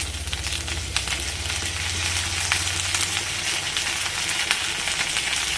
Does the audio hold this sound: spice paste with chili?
yes